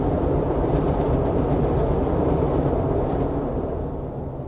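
Heavy low rumbling of a train moving along the tracks nearby, a dense continuous roar that fades a little at the end.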